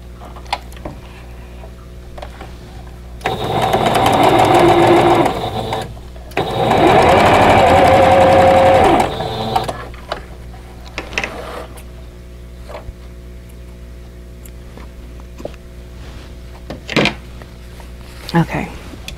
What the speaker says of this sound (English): Now I'm going to sew these other flying geese, the side flying geese together.